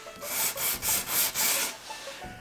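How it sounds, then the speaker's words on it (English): A 220-grit sanding pad is rubbed by hand over a painted wooden craft cabinet, making about five close, rhythmic scratchy strokes before quieter rubbing at the end. "you just put your little sanding pad right there. And you sand."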